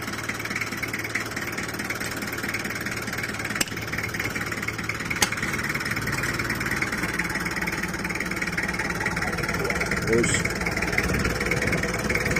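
An engine idles steadily nearby with a low, even chug, a few sharp clicks breaking through, and voices talking over it.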